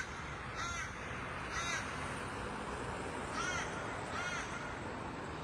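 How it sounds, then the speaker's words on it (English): Harsh caws from a crow or raven in the cold outdoors at Boggo Road Jail, four separate calls in two pairs, fairly clear above a soft background rumble. "Perfect timing, crow or raven."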